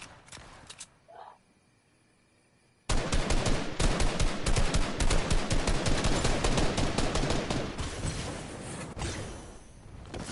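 Rapid bursts of automatic gunfire from Fortnite crackle continuously for several seconds after a brief quiet stretch, loud and close, the shots running together with a few scattered pops near the end.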